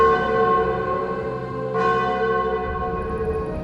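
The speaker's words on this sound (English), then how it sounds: "Church bells rang." Church bells ringing, a sustained, resonant ring of overlapping tones with a fresh strike midway that renews the shimmer, steady and fairly loud with no voices.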